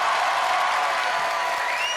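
Audience applause at a French TV show taped at Eurodisney, dense and steady clapping from a crowd, loud and close, with no speech over it.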